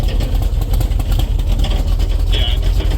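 1977 Jeep CJ5 with an AMC engine runs close by with a loud, steady low rumble, and voices are heard over it.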